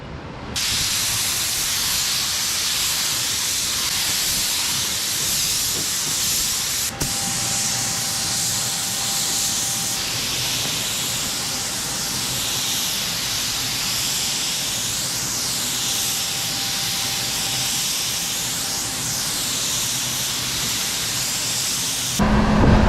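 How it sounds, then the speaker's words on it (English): Strong wind roars and buffets a nearby microphone in a continuous loud rush of noise that surges and eases with the gusts. "you'll have to pardon the wind noise."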